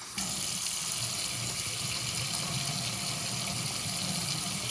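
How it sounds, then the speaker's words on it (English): Water runs from a tap into a clogged, slow-draining sink, a continuous close hiss with a low gurgle underneath, no talking. "Just filling up, or it's draining extremely slowly?"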